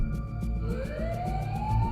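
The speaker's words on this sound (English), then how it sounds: "Ambulance arrived" An ambulance siren wails steadily, its pitch rising as it sweeps upward, loud over a low rumbling background with no talking.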